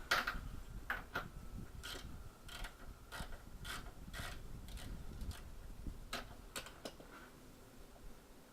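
A ratchet clicks in short bursts while a motor mount bolt on an SRT-4 is tightened, the quiet mechanical ticks spaced irregularly over a low background hum.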